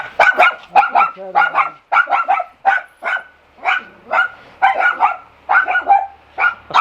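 A dog barks repeatedly in quick, rhythmic bursts at a rural homestead with a pigsty, fairly close and loud, with a brief spoken word among the barks.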